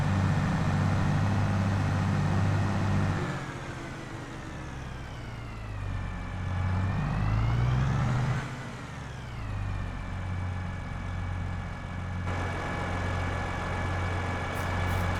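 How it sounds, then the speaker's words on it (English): A tractor in Farming Simulator 22 drives uphill with a loud, steady diesel drone whose pitch rises and falls as the engine revs, close and continuous with no voices. "This tractor will move those out of the way, no problem."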